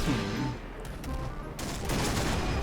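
Rapid automatic gunfire in a shooting video game, dense overlapping bursts that continue loud and close throughout, swelling further toward the end.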